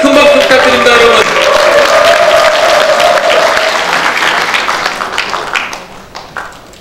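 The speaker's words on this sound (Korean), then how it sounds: "큰 박수 부탁드립니다" An audience at a political rally, a resolution assembly of regional council members, applauds loudly and steadily, the clapping thinning and fading into scattered claps toward the end.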